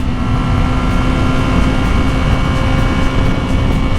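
A Yamaha R6 600cc sport motorcycle pulling in 4th gear, a steady loud engine drone with a constant whining tone and wind rush throughout, no voices.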